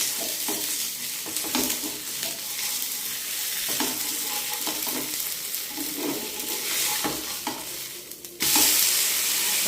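A crispy wheat dosa frying in oil on a pan and being flipped, with a continuous close sizzle broken by scraping and stirring strokes and a sudden louder hiss near the end. No talk.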